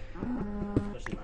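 A Minecraft cow gives a short low moo, brief and close, over faint background game sounds.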